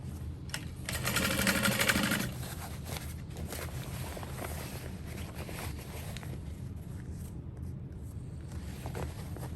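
A sewing machine runs a burst of stitching along a backpack side seam with a 3/4 inch seam allowance, a loud whirring run near the start, then quieter handling and shuffling of fabric.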